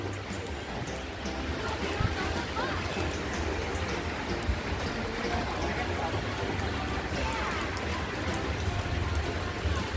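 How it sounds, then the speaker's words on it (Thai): Heavy rain pours steadily at an outdoor market in Pak Kret, a dense continuous hiss with no pauses. No one speaks through it. "ฝนก็ยังไม่หยุดเลยนะ"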